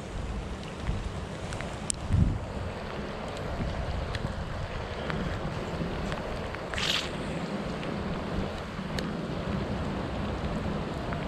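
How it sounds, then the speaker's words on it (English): Steady outdoor rain hiss with gusty wind noise buffeting the microphone, continuous and fairly loud, no talking. "In the rain, just the way we like it."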